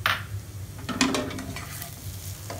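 Garam masala powder and chopped coriander leaves are gently stirred into a sizzling dish of karela, a spoon scraping the pan in a few soft strokes over steady frying.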